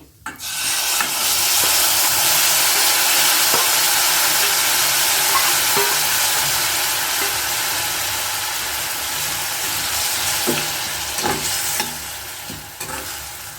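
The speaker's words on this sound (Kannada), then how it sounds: "ಒಗ್ಗರಣೆ ಬೇಯ್ತಾ ಇದೆ. ಇವಾಗ ಇದಕ್ಕೆ ನಾವು ನೆಲ್ಲಿಕಾಯಿ ಮಿಕ್ಸ್ ಮಾಡಿ ಇಟ್ಕೊಂಡಿದ್ವಲ್ಲ, ಉಪ್ಪು ಬೆಲ್ಲ ಹಾಕಿ ಅದನ್ನು ಹಾಕ್ತಾ ಇದ್ದೀನಿ." Gooseberry mix with salt and jaggery goes into a hot tempering for a Mysore-style recipe, giving a loud, continuous close sizzle with stirring scrapes that slowly settles after the first burst.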